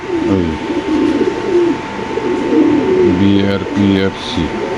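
Pigeons coo repeatedly in a close, busy chorus of low throaty phrases, with voices talking over them at a pigeon sale.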